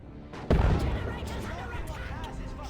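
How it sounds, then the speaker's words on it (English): A single heavy shotgun blast in Dawn of War 2: Retribution, close and loud, near a ruined church, then a battle din of artillery and gunfire that tails off. "That was a shotgun."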